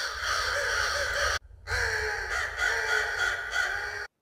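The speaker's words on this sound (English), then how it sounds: "I might want to use some of the crows" Crows cawing in an outdoor field recording, several loud harsh caws overlapping in quick succession, broken by a brief silence before another burst of calls.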